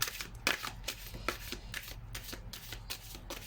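Oracle cards shuffled and drawn by hand, a run of crisp papery riffles and slides that repeat steadily at close range, with no talk over them.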